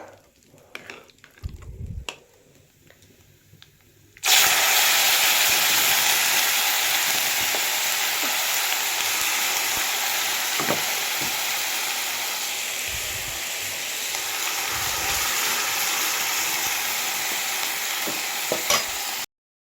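Kandali bhujji drops into a hot, thin kadhai and erupts into a loud, continuous sizzle that holds steady for many seconds, close up, after a few quiet handling sounds.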